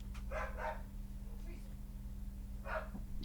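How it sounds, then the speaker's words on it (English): Dogs at home bark in a few short bursts, two quick barks close together then one more a moment later, moderately near over a steady low electrical hum. "It sounds like the Minecraft dogs"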